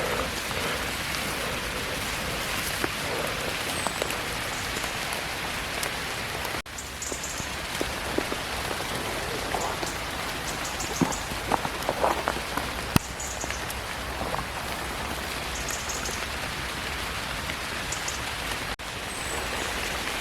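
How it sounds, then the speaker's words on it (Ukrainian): Steady rain pattering on leaves and ground all around in a foggy forest in the Kyiv region, a dense even hiss with scattered heavier drips, no voices. "Дощик іде, туман стоїть."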